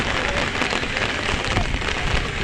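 Dense, heavy rain pours down without pause over flooding Cox's Bazar town, a loud, even hiss of countless drops striking hard surfaces close by.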